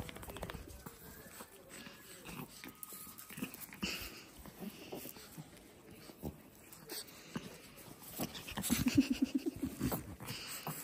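A Cavalier King Charles puppy pants and plays close by, with quick breathy puffs and soft pattering, then a burst of rapid rhythmic panting near the end, while people talk in the room.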